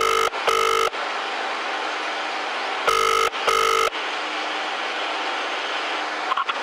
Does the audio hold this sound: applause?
no